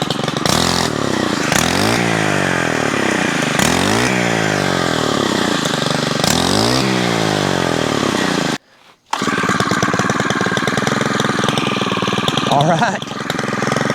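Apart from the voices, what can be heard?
Stihl FS90R string trimmer engine running and idling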